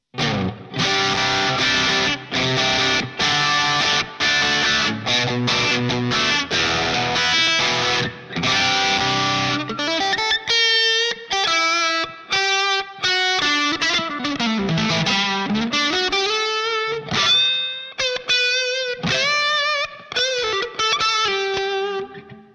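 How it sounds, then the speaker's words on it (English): Electric guitar played through a Line 6 POD HD500 Class A-30TB (Vox AC-30) amp model with cranked overdrive: thick distorted chords first, then sustained bent lead notes and riffs, loud and alone. "going to crank the drive up on that one just a little bit more, just to give us a little extra punch."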